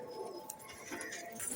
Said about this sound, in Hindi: कबूतरों को मैंने अपने पास बुला लिया है, हल्का सा दाना दिया है